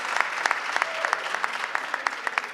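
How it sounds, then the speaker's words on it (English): An audience at a ceremony honoring prominent Sikh Americans claps for the SCORE group, a lively burst of individual hand claps with sharp, distinct peaks close by. "Can you give them a big round of applause?"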